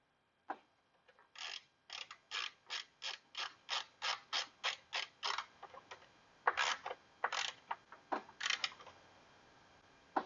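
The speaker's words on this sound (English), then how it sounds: "Let's go ahead and put that nut back on." A hand ratchet tightens a nut on the 5.3L engine of a Chevy Trailblazer, a rhythmic run of about twenty close, crisp clicking strokes with short pauses between them and no voices.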